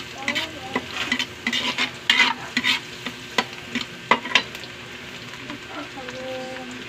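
Garlic sizzles and fries in a pan alongside ginger while a utensil stirs, giving steady sizzle with sharp scraping clicks and bursts across several seconds.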